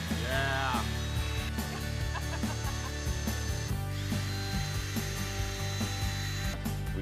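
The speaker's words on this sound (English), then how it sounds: "We're drilling." A loud power drill whirs continuously up close, its motor pitch wavering as it bores steadily into a wall.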